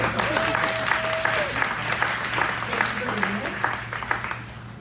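Applause breaks out for candidates at a primary Q&A forum for the Colorado legislature, a steady patter of clapping under ongoing voices, with a low constant hum beneath.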